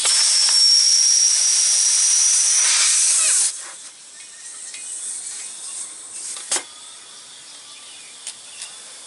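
Compressed air hisses loudly and continuously into a truck tire with the valve core removed, then cuts off abruptly after a few seconds, leaving faint background noise and a couple of small clicks.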